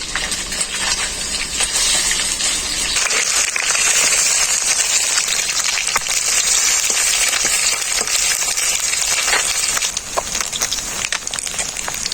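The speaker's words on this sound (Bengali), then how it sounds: "মাছটার এক পিঠটা ভাজা হয়ে গেছে আর এক পিঠটা পাল্টে নেবো" Small sea mourala fish fry in mustard oil and are turned over, giving a continuous close sizzle broken by scattered crackles and light clicks from the utensil.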